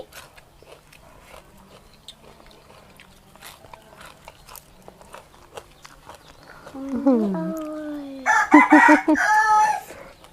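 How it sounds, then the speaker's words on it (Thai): A rooster crows loudly nearby, a long rising call followed by another, after quiet chewing and faint background sounds. "โทษทีค่ะเสียงไก่มันร้อง"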